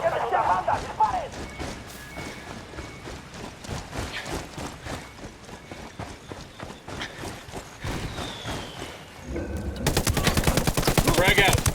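Dense gunfire in a Ghost Recon Wildlands firefight, rapid automatic bursts and scattered shots mixed with shouting voices, ending in a loud, sustained machine-gun stream.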